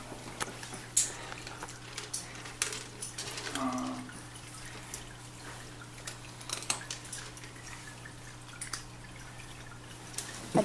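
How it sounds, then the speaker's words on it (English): A cat drinking fountain runs quietly indoors, giving a soft, steady trickle with scattered faint drips over a low, constant pump hum. No voices are heard. "We have a water fountain for the cats to drink out of."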